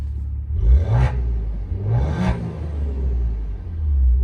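2017 Maserati Ghibli SQ4 engine in sport mode, revved twice in quick succession: two sharp, loud blips rising and falling, then a deep burbling idle rumble, with no speech.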